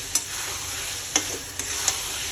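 Chicken sautéed Bengali-style in a pan after salting, a steady close sizzle with four light spatula taps spaced across the short stretch, no speech.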